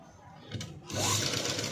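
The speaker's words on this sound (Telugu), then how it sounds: "మూలల్లోని పాదం దించి సూది దించి నీట్గా స్టిచ్ అనేది వేసుకోవాలి." A sewing machine stitches a padded, sleeveless blouse, starting softly and then running in a steady, close whir after about a second.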